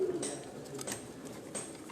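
Pigeons belonging to Ustad Ashiq Hussain coo on a rooftop in Sialkot, a few low soft calls close by over faint background noise.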